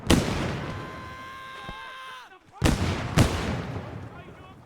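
Grenade blasts and gunfire in the ArmA 3 combat game: a loud opening burst decays with ringing tones, then two sharp, close explosions follow after a short lull, over a faint voice.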